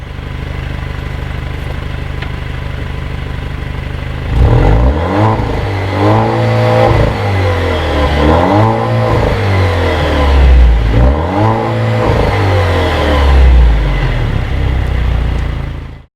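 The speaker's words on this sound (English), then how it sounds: "I'm going to give you guys some revs" A car engine idles, then revs up hard several times in a row, each rise and fall loud and near, settling back to a rumbling idle between.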